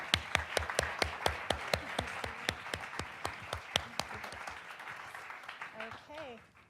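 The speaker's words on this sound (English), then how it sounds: "Please join me in giving our panelists a round of applause." An audience at a national service commission's interim report event gives a round of applause, many hands clapping in a steady burst that gradually thins out and fades, with a voice starting up at the end.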